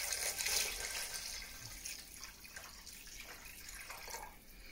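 Two litres of water poured into a pot for pistou soup make a close splashing gush that trails off into sloshes and drips, loudest at the start.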